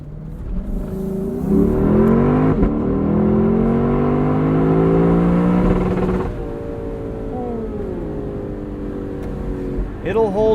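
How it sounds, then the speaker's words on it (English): A Lexus LC engine revs hard and holds against the rev limiter, a loud sustained rising and falling drone that drops back after about six seconds, with no talk over it. "that has got to be one of the most intoxicating rev limiters on sale today"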